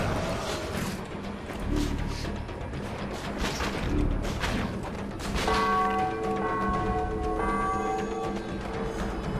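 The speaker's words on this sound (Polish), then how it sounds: "Fajnie uderzyliśmy w dzwon." A bell is struck in the video game Spider-Man: Web of Shadows, ringing out loudly with a long sustained metallic tone over busy game noise and impacts.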